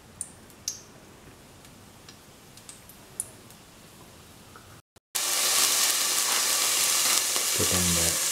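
Ghee in a pan, first quiet with a few light ticks and clicks, then after a brief cut a loud, dense, close sizzle bursts up and holds steadily to the end, with no one talking.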